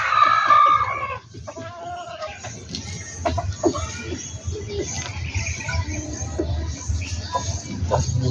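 Backyard chickens cluck repeatedly, with a rooster crowing at the start, amid outdoor farmyard noise and occasional faint talk.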